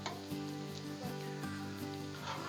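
Chicken bites, some teriyaki-glazed, sizzle steadily on a hot Blackstone griddle as they are stirred and pushed around, a close, continuous frying hiss with faint scraping and no talking.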